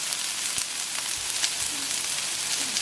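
Goat curry sizzles steadily in a pan, a close, continuous crackle with scattered pops and faint stirring scrapes, no voices.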